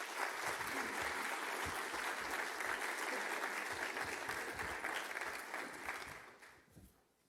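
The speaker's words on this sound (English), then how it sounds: "Let's give a round of applause to our three guests today." A symposium audience applauds three guests, dense sustained clapping that fills the room, strong at first and then tapering off toward the end.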